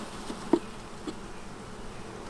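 Honey bees buzz around an open beehive, a soft, steady hum with a couple of brief, louder passes close by and no talking.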